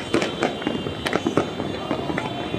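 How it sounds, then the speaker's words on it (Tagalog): Rapid, irregular bursts of Chinese firecrackers and fireworks popping and crackling close by at a New Year celebration, with sharp cracks scattered over a steady background rumble. "yung mga paputok na yan."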